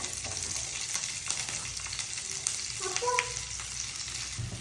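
Onions and green chillies fry in a pan with a steady, close crackling sizzle and a few soft stirring clinks.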